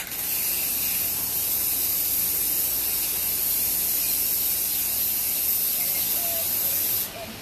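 A continuous, loud hiss of an aerosol sealant spray can spraying in a poorly ventilated area for about seven seconds, then cutting off abruptly.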